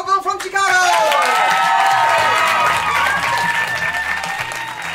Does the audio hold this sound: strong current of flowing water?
no